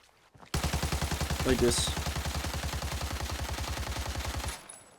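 Rapid automatic gunfire from Arena Breakout, a steady stream of evenly spaced shots lasting about four seconds, loud and close, with a brief voice speaking over the start.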